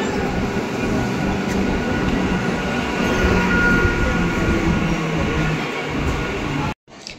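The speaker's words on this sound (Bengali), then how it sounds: "শিয়ালদা থেকে কৃষ্ণনগরগামী লোকাল ট্রেন ধরে সকাল সকাল কৃষ্ণনগর পৌঁছে যায়" A local train on the Sealdah to Krishnanagar line rumbles along with a steady, loud, continuous roar of wheels and carriage noise, ending abruptly with a brief drop near the close.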